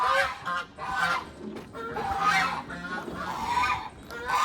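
An agitated gander goose on a backyard bird farm lets out a close, loud series of harsh, nasal honks, repeating in quick bursts with short gaps throughout.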